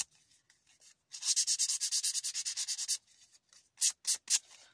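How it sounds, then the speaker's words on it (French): Light sanding of a varnished playing card, a quick run of about fifteen rhythmic rubbing strokes, then a pause and three more separate strokes, close and dry. "Je ponce un tout petit peu."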